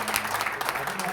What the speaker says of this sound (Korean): 깊은 감사의 박수 부탁드립니다.